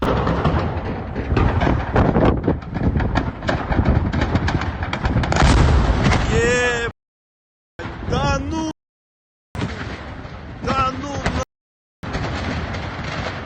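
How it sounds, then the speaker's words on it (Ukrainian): Repeated booming blasts and crackling bursts from exploding shells at an ammunition depot in Crimea, loud and close, chopped by abrupt silent gaps, with voices faintly mixed in at times. "а снаряди зі складу розлітаються по всьому селу"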